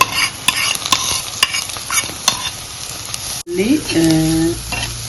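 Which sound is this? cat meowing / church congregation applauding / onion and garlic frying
onion and garlic frying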